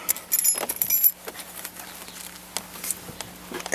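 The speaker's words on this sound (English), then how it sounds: "I have a brand new set, actually, of factory original keys" Brand new set of factory original Ford car keys with a tag jangling briefly in the hand, metallic clinks near the start, then quieter handling noises.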